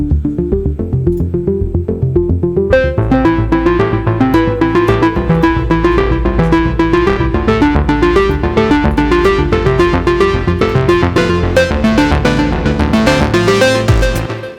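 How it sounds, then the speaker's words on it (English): In a trance track, a Moog Subsequent 37 plays a plucked lead line of fast, repeating notes over a steady beat and bass, loud and up front, and the full mix grows busier partway through. "I am using the Moog for a kind of a plucked lead sound"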